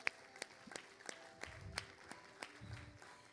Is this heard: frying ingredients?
no